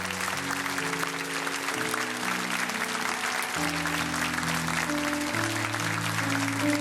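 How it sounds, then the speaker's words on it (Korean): A church congregation at a Korean Sunday worship service applauds in sustained, even clapping that fills the room, while organ or keyboard chords hold underneath throughout. "우리 다시 한 번 더 큰 박수로 축복하면서"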